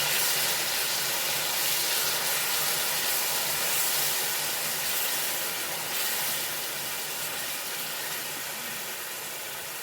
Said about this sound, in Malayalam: ഇതിലേക്ക് ഈ പൈനാപ്പിളാണ് ഇട്ട് കൊടുക്കുന്ന ചതച്ച് വെച്ച് ഇളക്കി കൊടുക്കാം